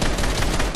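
A short, dense burst of gunfire from Fortnite, loud and continuous with no gaps between shots.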